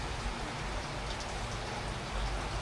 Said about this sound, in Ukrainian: Дощик там на вулиці? Так. так? Сильний дощ.